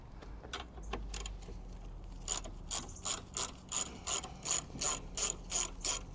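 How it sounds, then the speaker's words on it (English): A ratchet loosens bolts on a Honda Jazz battery, first a few scattered clicks and then a run of quick, regular clicking strokes, close and fairly crisp, with no talking. "I'll use a ratchet for the rest of it"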